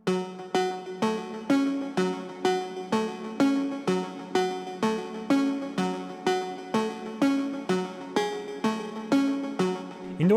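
Layered synth plucks from Pigments, blending sawtooth and triangle waves in a progressive house style, repeat in a steady rhythmic pattern with even, bright attacks and a short sweep at the very end, with no voices.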